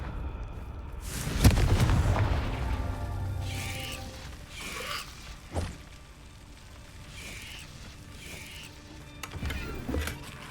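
Confringo fire spell blasting in Hogwarts Legacy, with a few heavy booming impacts spread across the clip: one loud burst early, a sharper hit midway and another near the end, over a rumbling game backdrop.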